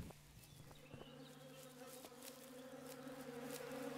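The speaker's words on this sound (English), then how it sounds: "I see bees here." Bees buzzing steadily near a pair of beehives in the game Above Snakes, a close, continuous insect drone with faint flies mixed in, growing slightly louder over the few seconds.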